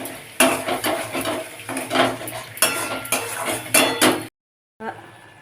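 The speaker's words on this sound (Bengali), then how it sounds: "সব মশলাগুলো একসাথে কষিয়ে নেব" A spoon scrapes and clinks against a pan as spices are stirred and fried together for a pomfret fish curry. The strokes come loud and close in a steady repeating rhythm over a faint sizzle, then stop briefly before resuming.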